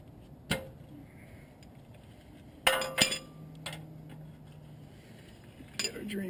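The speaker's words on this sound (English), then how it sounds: "So now I'm going to break free the drain plug." A wrench breaks free a car's oil drain plug during a 30,000-mile service, giving a few sharp metallic clinks and knocks up close against a quiet background.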